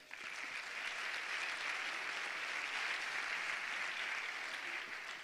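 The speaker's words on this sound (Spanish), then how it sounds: "Un aplauso para ellos." Sustained applause from an audience at a presentation of the Caja Rural Seguros RGA cycling team, honouring the riders; a dense, steady wash of clapping that holds evenly for about five seconds before tapering slightly.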